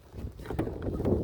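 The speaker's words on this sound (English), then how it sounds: "Yes, it's windy." Gusty wind buffets the microphone with low rumbling, rising and falling over a short stretch, loud and close.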